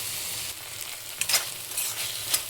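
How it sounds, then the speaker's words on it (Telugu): Chopped tomato softening in a pan for hotel-style mutton keema dum biryani, giving a soft, steady sizzle with a few faint stirring scrapes and no talk. "టమాటా బాగా మగ్గిపోయే వరకు మగ్గించుకుందాం"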